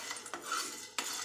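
Chana dal is stirred and roasted in a pan, a utensil scraping and clinking against the metal in quick strokes with a couple of sharp knocks, close and fairly quiet.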